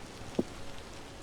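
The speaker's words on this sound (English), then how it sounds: "Doing a bit of chiseling on this lovely rainy day." Rain falling in the video game Vintage Story, a faint, steady hiss of rain on surfaces with one soft drop-like tap standing out, no voices.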